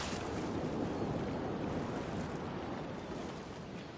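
Water in Elder Scrolls Online after a character falls off a dock, a steady broadband splashing wash that fills the whole stretch at even loudness and eases slightly near the end.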